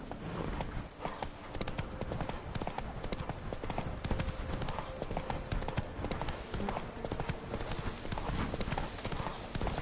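Roach, the horse in The Witcher 3: Blood and Wine, gallops with fast, steady, close hoofbeats throughout, with an occasional faint snort over game ambience.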